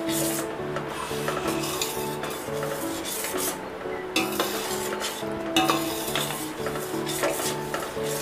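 Wooden-spoon stirring and scraping through payasam in a pot as fried cashews and raisins go in for traditional ada pradaman, a steady close rubbing with light sizzle, continuous for several seconds with no talk.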